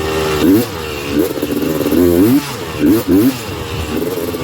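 A Honda TRX330R quad's engine revs while riding, a loud, close motor rising and falling in pitch with repeated surges of throttle and brief dips.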